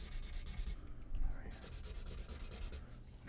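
Coloring in on paper, steady close scratchy strokes with a brief pause partway through, faint and alone with no voice.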